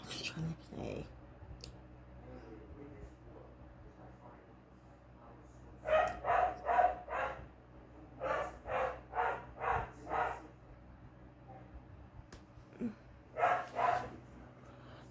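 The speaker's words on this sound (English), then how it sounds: "He barks for no goddamn reason." A dog barks in clustered bursts of sharp, mid-distance barks, three or four at a time with quiet gaps between groups, over a faint low background hum.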